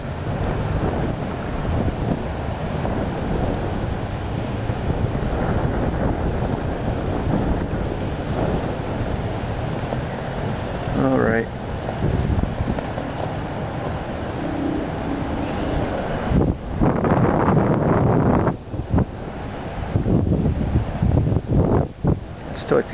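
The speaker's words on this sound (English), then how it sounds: "I'd still like to get that mainsail to quit flapping" A small sailboat's mainsail flaps and rattles in strong wind, mixed with heavy wind buffeting on the microphone and water noise, with bursts of louder gusts near the end.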